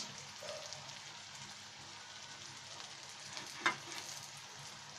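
Spices with green chillies, salt, chilli powder and turmeric being stirred in a pan for egg bhuna, a soft steady frying hiss with one brief scrape or clink near the end, no talk.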